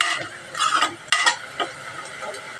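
Garlic sautés in oil for Mysore dal sambar while a spoon stirs it around the pan, producing quick scraping strokes over a light sizzle, close up with no speech.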